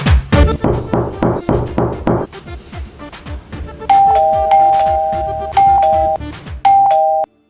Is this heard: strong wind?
no